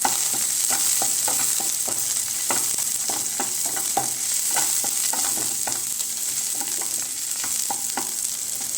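Spring onion sautéing in a hot pan for mushroom Manchurian, a steady sizzle punctuated by regular scraping and clinking strokes of a spatula stirring, close and continuous with no talk.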